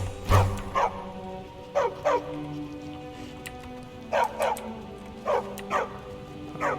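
Dogs barking in the video game Skyrim, a series of sharp, moderately close barks in pairs and short bursts, repeating at irregular intervals over a quiet background.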